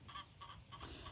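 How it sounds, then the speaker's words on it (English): Juvenile African geese call on a homestead farm in the morning, giving three or four short, nasal honks in a quick, evenly spaced series at moderate distance over a quiet background. "They are African geese."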